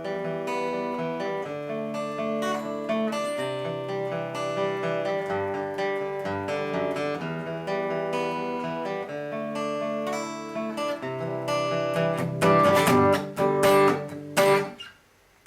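Acoustic guitar plays a live solo slowly, single melodic notes over ringing low strings, steady and close for about fifteen seconds, with a denser strummed flourish near the end before it stops.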